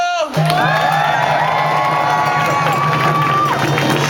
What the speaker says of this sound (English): Let's do another round of applause for Ian Campbell.